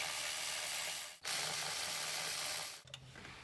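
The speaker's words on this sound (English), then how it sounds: "Let's try the electric ratchet for these." An electric ratchet works on bolts on a 2009–2014 Hyundai Sonata during starter motor replacement, making a steady, close mechanical whirring hiss that stops sharply twice in short bursts.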